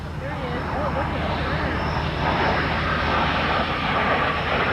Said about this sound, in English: It'll be brought up to idle, and he'll churn on through with very little sound